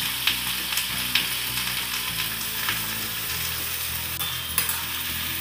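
Oil sizzles and crackles steadily in a pan as ingredients fry for a homemade chutney, a dense continuous hiss with occasional stirring clinks and no talk.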